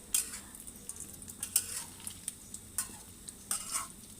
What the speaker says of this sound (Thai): ก็ค่อยขยับไข่เพราะให้มันติดกลนกระทะเนาะ